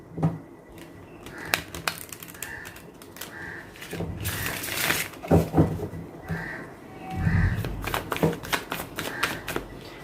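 Tarot cards being shuffled by hand, with quick riffling clicks and papery slaps in irregular bursts, fairly close and fairly quiet.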